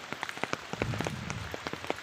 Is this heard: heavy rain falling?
yes